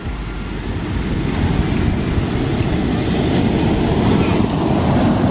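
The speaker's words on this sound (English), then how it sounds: "these are huge freaking waves" A steady, heavy roar of large surf at Huntington Beach, California fills the whole stretch, waves rushing and breaking continuously without a pause.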